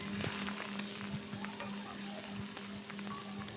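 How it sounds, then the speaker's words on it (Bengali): Fish fat and roe frying in a little oil, a steady close sizzle with crackles and pops throughout and no talking. "এখন যে মাছের তেল আর ডিম রেখেছি সেটা আমি এখন ভেজে নিচ্ছি সামান্য পরিমাণে তেল দিয়েছি"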